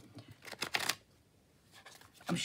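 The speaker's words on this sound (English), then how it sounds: "I think they shuffle quite well." Tarot cards riffle in a few short, crisp bursts close by, separated by a quiet pause.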